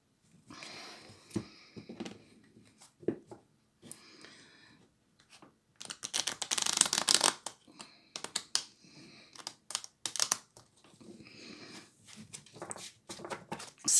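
Tarot or oracle cards of the Béline deck are shuffled for a general reading. Close, quiet bursts of riffling and flicking papery slaps come in irregular clusters, and a sustained shuffle run sits in the middle.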